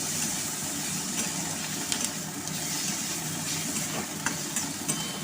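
Garlic and ginger paste frying in a pan while being stirred, giving a steady sizzle and scraping with a few sharp clinks of the spoon against the pan, close and continuous.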